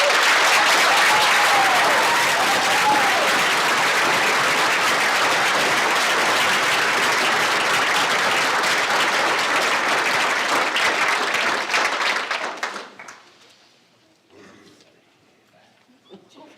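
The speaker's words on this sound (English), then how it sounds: "Can we have a big round of applause for the GHS Choir Class of 2024?" An audience at a school spring concert for grades 7 through 12 gives a choir a loud, sustained round of applause with some cheering, which fades out near the end, leaving sparse scattered claps.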